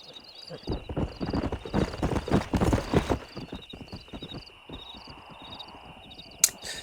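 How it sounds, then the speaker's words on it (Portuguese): Kentucky Settler horse in Red Dead Redemption: a steady run of hoofbeat clip-clops, heavier for a few seconds then easing off, with faint bird calls over it and a short sharp neigh-like burst near the end. "Você domou o Kentucky Settler, um cavalo ágil e raro."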